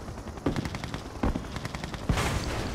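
A gunfire salvo in the real-time strategy game Red Alert 2 during an urban skirmish: several sharp shots fire in irregular succession over a dense, noisy battle background.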